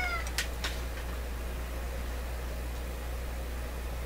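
A house cat gives a couple of short meows right at the start, fairly close, over a steady hum and hiss of background noise in an office.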